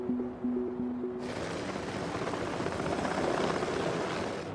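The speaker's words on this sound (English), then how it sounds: "Helicopter is the only way in." A helicopter flies low over the barren volcanic ground of Mount St. Helens, its broadband rotor and engine roar swelling in loudly and holding steady after a brief quieter opening with tonal hum.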